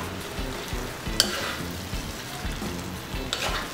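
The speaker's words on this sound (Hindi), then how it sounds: "चिकन में इस तरह से मिक्स कर देंगे" Chicken is stirred into a masala of spiced yogurt and capsicum for rogan josh, with a soft, steady sizzle and rhythmic scraping strokes of a spoon in the pan. A couple of sharp clinks are heard, and no one speaks.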